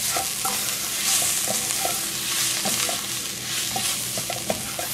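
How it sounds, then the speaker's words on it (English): Roux being stirred in a pan for smothered steaks: a spoon scrapes and clicks in a steady, irregular rhythm over a constant broadband sizzle, close and fairly loud, with no voices. "Go ahead and stir that in really well."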